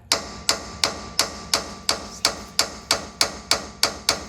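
A short-handle crescent wrench is tapped with a hammer while working on a Jeep Gladiator sway bar, giving about twelve sharp metallic strikes at an even, quick rhythm, close and loud with no talk.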